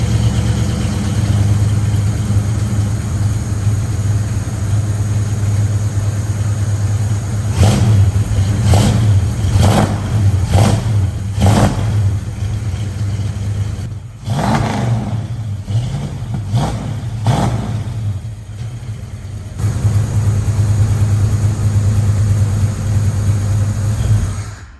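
A 1966 Ford Mustang's 302 V8 runs on Holley Sniper EFI, holding a steady rumbling idle broken midway by a quick series of sharp throttle blips and revs, then settling back to idle.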